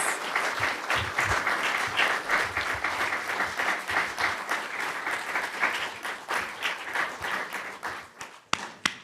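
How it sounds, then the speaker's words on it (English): A crowd at a Washington, DC mayoral and congressional delegate forum claps at length, with dense overlapping applause that swells and gradually thins out, leaving a few scattered claps near the end. "Let's give them a round of applause."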